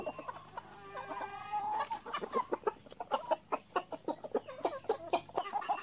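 Free-range native chickens cluck and murmur close by in a farmyard, a steady run of short, overlapping clucks with a higher rising call near the start, with no talking.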